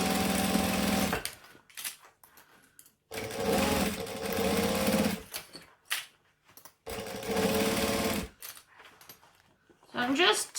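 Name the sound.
sewing machine stitching seam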